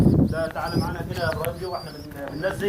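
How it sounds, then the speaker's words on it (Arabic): Pigeons in a rooftop loft tower coo and flutter over steady talk among the men handling the birds. "حمامه تبتدي تطير لوحدها اهي"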